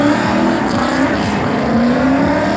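A drift car's engine screams at high revs during a drift show at IIMS 2026 in Indonesia, loud and close, with rising and falling pitch sweeps as the throttle is worked, constant and unbroken, with no voices.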